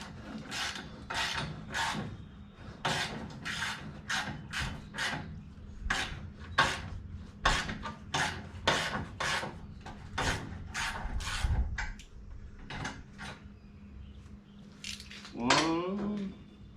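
Bolts come out of a car radiator with a ratchet, heard as quick, close bursts of metallic clicking in a regular rhythm, then a few scattered clinks of metal and handling noise near the end.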